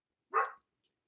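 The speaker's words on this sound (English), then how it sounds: "There's Gilbert barking." A dog named Gilbert lets out a single short bark, close and clear against an otherwise silent background.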